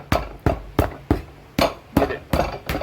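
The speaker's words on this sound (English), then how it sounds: "Bonk on it with my hammer." A hammer taps a 3/4 inch orthopedic lift onto a shoe sole in eight sharp, close knocks at a steady, slightly uneven pace, with nothing else heard.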